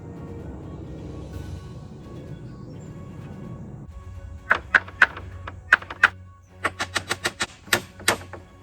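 Sharp hammer or nail-gun style taps fasten a wooden cross brace for a kayak and canoe rack, a quiet hum first, then a dozen or so close, crisp knocks in uneven bursts, some in quick succession.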